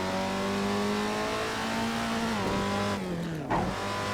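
Datsun 240Z engine in Assetto Corsa holding a steady high drone, then dropping sharply through quick downshifts with brief revving blips near the end, loud and close with no talk.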